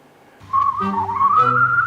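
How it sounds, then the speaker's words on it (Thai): A whistled tune plays from a tape mechanism inside an old toy, a clear, slightly wavering melodic whistle that rises in pitch and sustains loudly on its own. "ถ้าเปิดเครื่องออกมา มันจะเป็นม้วนเทปเลยนะข้างในเป็นเทป เหมือนเทปสมัยโบราณอ่ะ มีหัวเทปอ่านเนี่ยแค่นั้นแล้วก็แล้วก็ รันไปเรื่อยๆเนี่ยเป็นเสียงผิวปาก"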